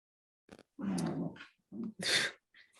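A dog sneezes and snorts close by in several short bursts, with huffing breaths and a sharp sneeze near the end, in an otherwise quiet room.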